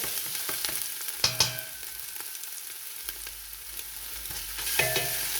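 Sautéing in a pan for mung bean stew with bitter gourd and pork trotters: a soft, steady sizzle close by, broken by a few sharp scrapes and clanks of stirring.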